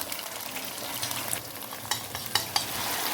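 Cornflour-coated pieces for chow mein fry in hot oil with a bright crackling sizzle, stirred so that soft scrapes and a few sharp clicks and pops rise over the steady hiss.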